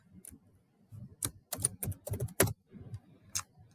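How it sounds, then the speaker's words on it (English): Keys clatter on a computer keyboard as a name is typed in at a desk, coming in short close bursts of clicks with brief pauses between them. "And I'm going to type in a name."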